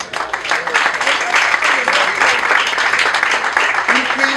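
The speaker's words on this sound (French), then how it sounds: "c'est le premier témoin, frère Rilin Léger, que je vous demande d'applaudir très chaleureusement" Warm applause from an audience at a ceremony, dense steady clapping that fills the whole stretch, close and loud with no voices on top.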